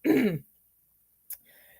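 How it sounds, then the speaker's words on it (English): A single short, raspy throat clear up close, followed by a tiny click and a faint soft breath. "if you keep hearing me trying to clear my throat, that's why"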